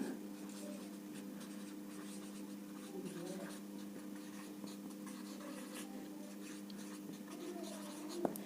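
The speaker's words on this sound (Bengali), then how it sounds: "আমরা লিখে ফেলি" Pen or pencil writing by hand during a grammar lesson, a steady close scratching with small strokes running throughout, over a low hum, with no talking.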